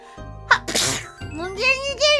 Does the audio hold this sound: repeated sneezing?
yes